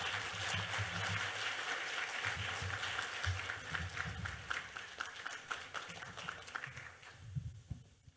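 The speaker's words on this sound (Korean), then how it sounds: "큰 박수로 환영해 주십시오." Audience applause welcomes a KAIST professor taking the stage for a corporate lecture on AI, organisations and HR strategy; dense clapping runs steady for several seconds, then thins and fades toward the end, with low room rumble underneath.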